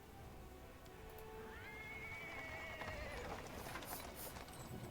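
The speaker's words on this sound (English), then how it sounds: "He's interrupted by the sound of wheels rolling on the paving stones. A cart drawn by a sad little horse appears from around the corner." A horse-drawn cart rolls over paving stones in the fantasy role-playing game Pathfinder: Wrath of the Righteous, with a horse whinnying and hooves clopping amid low wheel rumble and ambient noise.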